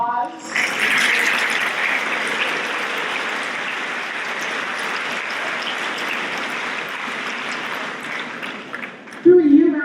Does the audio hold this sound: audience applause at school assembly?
yes